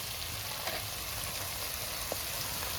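Chopped onions with garlic sizzle and fry steadily in an oiled pan, a dense continuous crackle close by with no talking.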